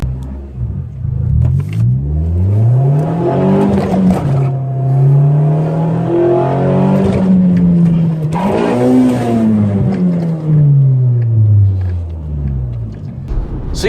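A car engine screams up to about 8000 RPM after a mis-shift, loud and close, with two long over-rev sweeps that climb and fall in pitch and no talking.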